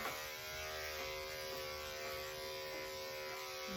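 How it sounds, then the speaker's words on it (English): Electric clippers shave the tail of a cocker spaniel during grooming. The clippers give a steady, even mechanical buzz with a faint hum, and no talk is heard. "Make sure to shave her tail and underneath her tail a little."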